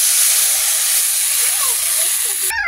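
Water poured into a hot pan while cooking a Bengali recipe with rupchand fish and jackfruit seeds gives a loud, steady steam hiss that fills the clip, then breaks off sharply near the end.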